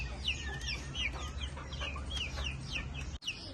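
Hens and half-grown chicks in a farmyard flock cluck and chirp repeatedly at close range. The calls are steady and busy, with a low background hum and no talking.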